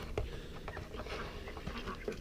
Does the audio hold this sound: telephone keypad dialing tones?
no